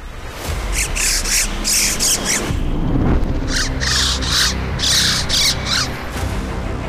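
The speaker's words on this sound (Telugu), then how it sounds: "అవును, పక్షి శబ్దమే." A bird squawks in repeated harsh, raspy bursts at about 16,000 feet near Roopkund lake in the Himalayas, a series of rough calls in two clusters, fairly loud over a steady wind-like rumble.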